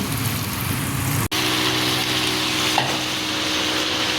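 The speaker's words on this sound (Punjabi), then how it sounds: "ਹੁਣ ਮੈਂ ਫਟਾਫਟ ਸ਼ਿਮਲਾ ਮਿਰਚ ਪਾ ਲਾਂ ਜੀ" Capsicum (bell pepper) with masala sizzles loudly in a hot pan as it is stirred, a steady close frying hiss with one brief break and a faint utensil scrape.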